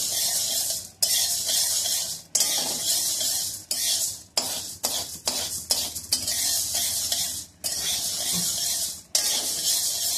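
Jowar (sorghum) grain dry-roasted in a pan for thalipeeth flour, a steady sandy rustle as the grains are stirred and scraped around the metal, in repeated bursts with short pauses, close up and without speech.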